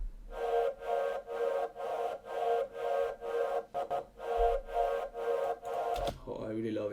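Electronic music stab sample following the melody in the background of a dance track, a steady run of short, evenly spaced stabs at moderate level, cut off near the end by a brief different sound.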